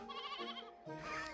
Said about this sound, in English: That's right, shepherds take care of sheep.